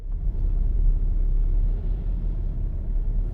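A car drives along a road, its low steady rumble of engine and tyre noise continuing evenly from inside the vehicle with no talk.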